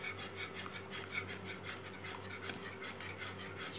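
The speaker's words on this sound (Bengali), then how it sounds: "সুজিটা ঘন হওয়া পর্যন্ত আমাকে একটানা নাড়িয়ে যেতে হবে।" Semolina being stirred continuously in a pan of boiled milk, a steady scraping and rubbing with a regular rhythm, close and fairly quiet, with no talking.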